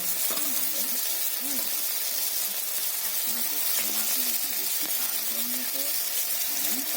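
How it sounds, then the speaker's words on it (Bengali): Fish fries in a pan with a steady, hissing sizzle throughout, while a voice talks faintly underneath. "মাছটা ভাজা হয়ে গেছে"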